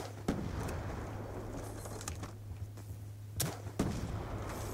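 Gunfire from the video game Black Ops 2: several sharp shots and booms spaced irregularly over a steady low game hum, no speech.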